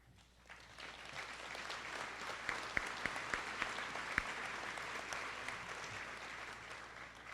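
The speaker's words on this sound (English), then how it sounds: "That's worth an applause." A graduation-ceremony audience applauds steadily for several seconds, a broad wash of clapping heard from within the crowd, with a few sharper individual claps standing out and no talking over it.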